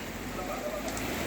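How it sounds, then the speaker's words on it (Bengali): Rain falls steadily over the Hatpara market area of Murshidabad, a close, even patter and hiss with a voice faintly present underneath. "এই দেখো হাট পাড়ায় বৃষ্টি, দেখো কিভাবে বৃষ্টি হচ্ছে দেখো"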